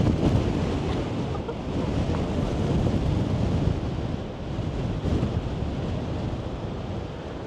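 Strong wind buffets the microphone on a clifftop along the Great Ocean Road near the Twelve Apostles, a loud steady rushing roar with gusts and distant surf beneath.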